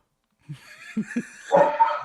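A person's voice imitates dog barking in a few short, close yelps and woofs, then real dogs answer with a burst of louder barking near the end.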